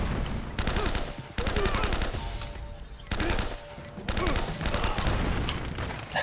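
Automatic rifle fire from Uncharted: Drake's Fortune rattles in dense, loud bursts that stop and start. Short quiet gaps come between the volleys, and faint game effects play underneath.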